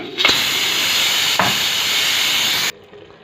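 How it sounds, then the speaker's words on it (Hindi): Steam hisses loudly out of a pressure cooker's release valve while cooking turnips, a strong continuous close hiss lasting over two seconds before cutting off abruptly. "जब इसकी स्टीम निकल गई तो मैंने इसका प्रेशर कुकर का ढक्कन उतारा"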